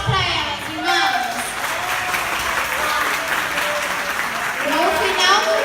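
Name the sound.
applause for church members' birthday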